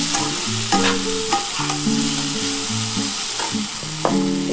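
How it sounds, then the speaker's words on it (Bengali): Bitter gourd and onion fry in a pan as mustard paste is stirred in, giving a loud, steady sizzle with scraping stirring strokes throughout. "উচ্ছের সাথে পেঁয়াজটা দেখো খুব ভালোভাবে ভাজা হয়ে গেছে। এবার আমি সর্ষেটা দিয়ে দিচ্ছি।"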